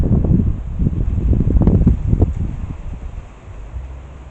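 Wind rushes through treetops on a cleared patch of land on a windy August morning, a loud, gusting roar with rustling leaves that swells and then eases toward the end.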